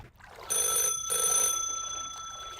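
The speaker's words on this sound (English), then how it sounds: "That's the phone." A telephone rings nearby in two quick bursts of a bright, buzzing electronic trill, then the ring tone fades away alone.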